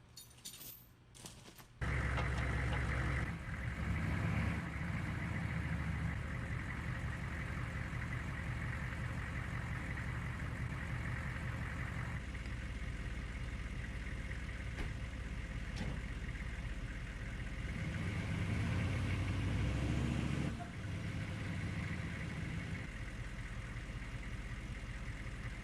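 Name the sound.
truck engine pulling out a bush with tow chains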